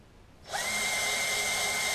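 A power drill spins up abruptly after a brief quiet moment and holds a steady, high whine while boring a start hole for an RV project, close and loud with no talk.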